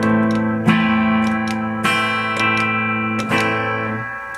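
Electric guitar played through an Otis pedal with the lead boost at its lowest setting: distorted sustained chords struck about four times, each ringing out and decaying, heard alone at moderate level.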